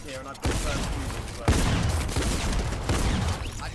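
Rapid gunfire in a Fortnite match, the shots aimed into a built cone structure, sounding as a sustained, loud crackle with three sharper bursts spaced across the stretch, and a voice faintly present underneath.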